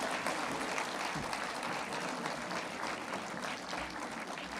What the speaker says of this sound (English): I request the audience to give a big round of applause